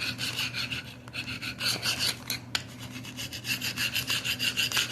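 A steel chisel scrapes and rubs along tile grout lines during wall demolition work, a close, continuous gritty rasping with quick back-and-forth strokes and a brief sharp scrape near the middle.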